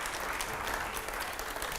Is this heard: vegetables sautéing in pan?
no